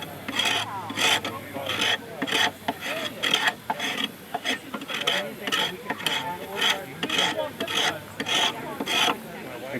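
A hand scraper is drawn repeatedly along a wooden wagon wheel spoke at an outdoor encampment, giving steady rasping strokes in an even rhythm, close and fairly loud.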